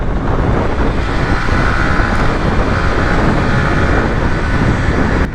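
A Yamaha MT-15 motorcycle ridden at night, a loud, steady roar of wind rush and road noise that holds constant and hides the engine, with no speech.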